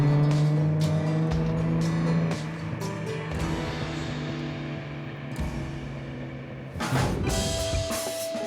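A lightweight, tuned BMW 328 Roadster race car with a stronger engine drives past at steady, loud engine pitch, with a louder surge of revving and a passing sweep near the end.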